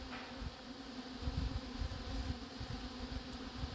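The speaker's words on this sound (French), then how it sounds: "Beaucoup d'abeilles." Many honeybees from a captured swarm hum continuously around a hive, the buzzing close, even and loud throughout with no one talking.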